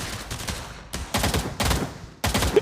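Gunshots in the VR shooter Pavlov, several loud broadband bursts at uneven intervals, some in quick clusters like short volleys, close and without talk.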